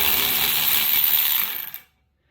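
A ratchet cracks loose the 17 mm nut on a Honda Civic wiper arm, giving a close, dense run of fast ratcheting clicks that cuts off abruptly into silence.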